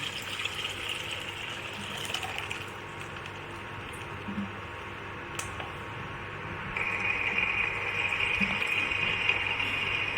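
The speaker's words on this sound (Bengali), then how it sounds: "সোমবারটা হয়ে গেছে আমার, এবার ডালটা আমি ঢেলে দিচ্ছি" Boiled dal with turmeric being poured into a pan of tempered spices, a steady liquid pour and splash that swells louder toward the end, alone without talk.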